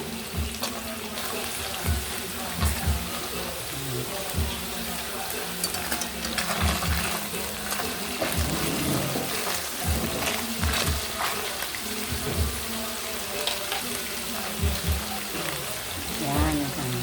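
Milkfish frying in a home kitchen pan, crackling and sizzling steadily throughout with scattered pops and clatter, at moderate loudness and close.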